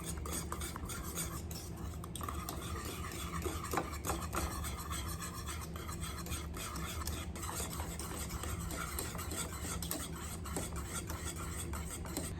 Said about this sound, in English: I'm just stirring and just allowing it to cook